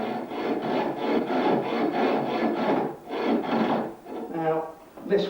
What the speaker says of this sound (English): cutting on the wastewood side of the line, we carefully make a start and precisely cut down the line